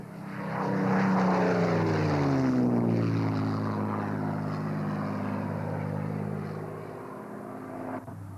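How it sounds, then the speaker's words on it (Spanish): A Spitfire fighter with a Rolls-Royce Merlin piston engine dives past: a loud propeller roar swells quickly, its pitch sliding downward as it passes, then fades steadily into a lingering distant drone. "El Spitfire se abalanza desde el cielo con el inimitable sonido de su motor Rolls-Royce Merlin."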